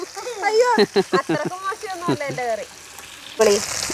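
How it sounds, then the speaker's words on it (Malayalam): Oil sizzles steadily as fish fries in a pan, the hiss running beneath close, clear talking and swelling louder near the end. "മൂന്നെണ്ണം ആദ്യം വറുത്തിട്ടുണ്ട്"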